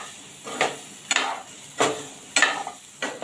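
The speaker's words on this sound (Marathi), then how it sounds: "आधी मी त्याला मसाल्यावर परतून घेणार आहे व्यवस्थित" Four large, tender, peeled drumsticks are stirred in masala in a pan with the gas turned off. About five scraping strokes repeat every half second or so over a faint sizzle.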